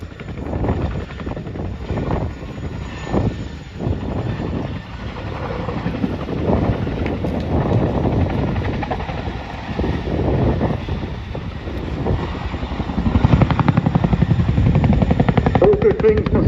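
A Boeing Chinook twin-rotor helicopter flying a display at Duxford airshow, its heavy rotor thump and turbine roar loud and continuous, swelling near the end, with wind buffeting the microphone and a commentator talking over it.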